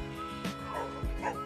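Dogs at a husky and beagle kennel yip and whimper in short bursts, with a couple of brief barks close by over a steady background hum.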